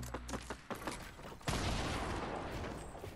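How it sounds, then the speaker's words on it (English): Gunfire in the video game Fortnite, a few separate shots followed by a dense, continuous burst of rapid fire that fills the rest of the moment, loud and close. "don't shoot at Nick"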